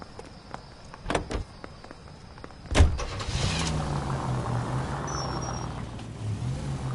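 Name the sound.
car in L.A. Noire video game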